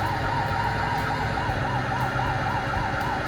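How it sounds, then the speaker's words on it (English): Fire engine sirens from a fire engine driving simulation video game cycle in a fast, continuous warbling wail, loud and steady over a low engine rumble for the whole stretch. "Can't they hear the sirens?"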